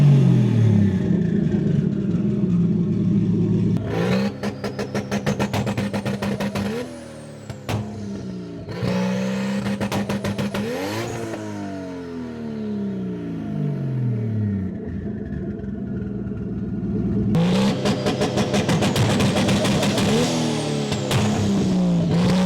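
An offroad 240SX engine holds high, stuttering revs on two-step launch control, crackling and popping, with sweeping rev rises and drops between bursts, loud and close.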